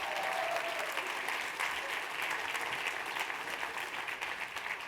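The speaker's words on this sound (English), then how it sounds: "Round of applause." A roomful of people at a guest speaker's talk applaud in a continuous, moderately loud round of clapping that holds steady, with faint voices and cheers mixed underneath.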